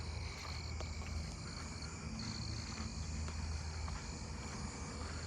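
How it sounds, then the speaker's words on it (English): Southeastern field crickets chirp steadily in a neighbourhood at night, a continuous layered insect chorus of high trills and pulses running throughout, moderately distant, with no voices. "Southeastern field crickets."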